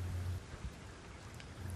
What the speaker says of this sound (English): suddenly, there was a crash of thunder and poured with rain